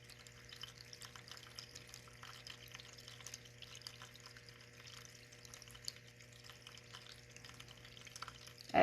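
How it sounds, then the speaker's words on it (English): A small tabletop water fountain on a desk trickles softly and steadily in a quiet room, a faint continuous babble of falling water with a low background hum. "The water sound is a small fountain on my desk."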